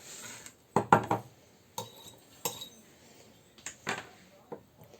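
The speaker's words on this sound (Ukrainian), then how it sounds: "трішки ріжу і закладаю в баночку потрішки" Soft, oven-dried tomatoes with garlic being packed into a small glass jar, giving a few separate clinks and knocks of glass spaced through a quiet kitchen, with no talking.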